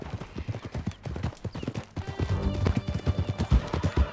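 A horse in Red Dead Redemption 2 gallops with rapid, rhythmic hoofbeats that are loud and close, joined by a brief snort or whinny, and the pace picks up partway through.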